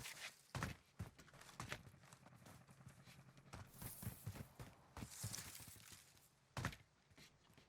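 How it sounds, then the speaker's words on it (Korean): Footsteps in Call of Duty Warzone Pacific, a string of uneven thumping steps with a few sharper knocks, near and fairly distinct against low background game noise. "발소리"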